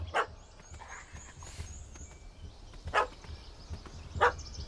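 A puppy in the video game The Witcher 3, barking three sharp separate times over a quiet background, close and clear with pauses between each bark.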